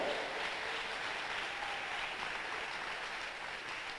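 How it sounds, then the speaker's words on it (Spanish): A church congregation applauds steadily during a bishop's sermon, a dense, even wash of clapping heard at some distance, quiet and continuous without voices on top. "Dele un aplauso fuerte al que vive en esta hora."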